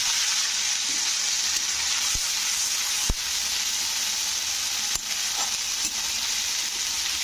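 Ginger and cumin paste sizzles steadily in hot oil in a pan for a Bengali bottle gourd and prawn dish, a close, continuous broadband crackle with a few sharp clicks from the utensil and no talking.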